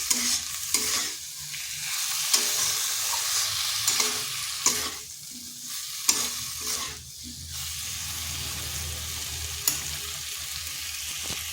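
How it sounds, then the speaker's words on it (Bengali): Masoor lentils stirred into spices in a pan for a dish with gathi kochu (taro), a close, steady sizzle broken by repeated scraping strokes and spoon knocks against the pan. "এটাও মশলার সাথে মিশিয়ে নিচ্ছি।"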